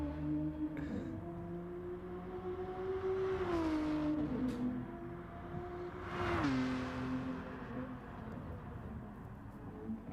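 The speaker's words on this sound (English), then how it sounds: "I can still hear this car's revs." A Nissan Datsun race car engine in a racing game drones steadily, then revs up twice in quick swells before settling back to a constant hum. The engine is close and prominent, with no voices.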